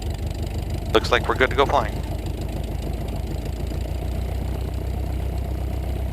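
A light aircraft engine idles at about 620 RPM with carb heat on during the pre-flight idle check, a steady low, close drone. A person speaks briefly near the start.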